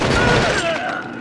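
A dense burst of gunfire in the PS2 first-person shooter Cold Winter, loud and echoing, with a rolling rumble that trails off within about a second.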